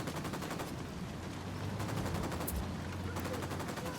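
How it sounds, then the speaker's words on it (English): Sustained automatic gunfire in the open-world shooter Ghost Recon Wildlands, a dense, unbroken rattle of rapid shots running loud and steady throughout with no pauses. "I'm opening fire."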